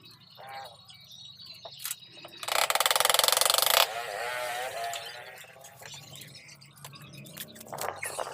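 Screws being fastened into the underside of a saint statue, with close mechanical ratcheting clicks and a louder, harsher buzzing burst in the middle, then softer scraping and handling noises.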